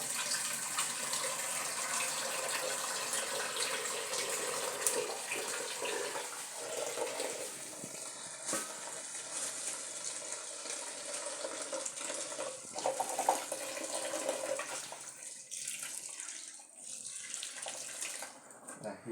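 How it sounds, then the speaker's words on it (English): Tap water runs steadily from a kitchen faucet into a sink while onions are rinsed, a continuous close splashing wash that thins out near the end, with no talking over it. "I'm going to wash my vegetable"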